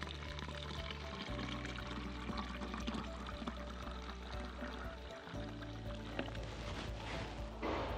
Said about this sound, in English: about 2/3 fill this with water, just normal tap water